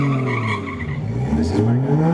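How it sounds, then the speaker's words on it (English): Cars street racing, a Nissan against a Toyota Supra, roar past with a steady engine drone and rising tire squeal, loud and close throughout a short burst, with voices over it. "This is a race, Pete versus a Supra. You've got this, Pete, for Nissan."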